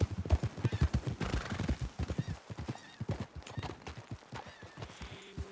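Horses in Red Dead Redemption 2 trot with a steady, close clip-clop of hooves and let out loud neighs and whinnies, no voices over them.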